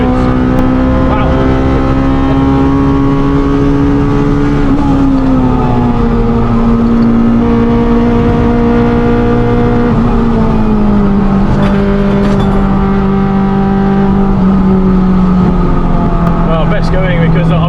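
A Mk3 Renault Clio 197 fitted with a K20 engine, heard from the cabin on a track: a loud, sustained high-revving engine whine that holds and shifts pitch across several gears, with speech briefly over it.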